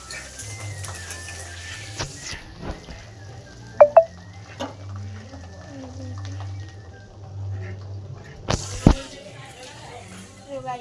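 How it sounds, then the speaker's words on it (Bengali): Food frying in a pan during cooking for a puja, with a faint steady sizzle under occasional clinks of utensils, a few sharp clatters and people talking nearby. "এই ভাজা ভাজি করছে"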